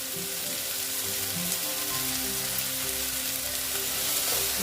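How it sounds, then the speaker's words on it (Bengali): Ginger and garlic paste frying in a pan for a spicy Bengali catla fish curry, giving a steady, loud, close sizzle with faint stirring throughout and no voices. "এখন আমি এখানে দিয়ে দিচ্ছি আদা আর রসুনের পেস্ট"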